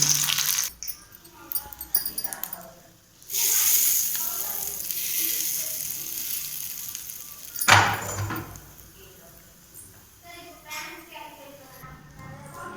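Curry leaves sizzle in hot oil with popped mustard seeds for a groundnut chutney, a bright crackling hiss with a sharp burst midway, heard alongside a person talking.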